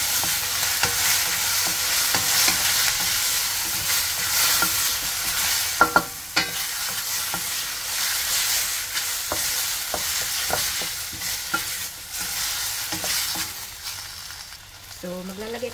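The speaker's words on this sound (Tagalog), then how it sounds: "Then, ilalagay na natin ang ating marinated boneless chicken legs. Then, haluin natin." Marinated boneless chicken legs frying in a pan while being stirred, with a loud continuous sizzle, frequent spatula scrapes and clicks against the pan, and no talking.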